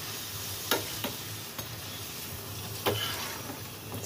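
Methi puri fries in a pan of oil with an even, bubbling sizzle and a few sharp clicks and taps from a utensil, with no talking.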